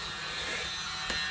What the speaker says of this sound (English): Little blow dryer.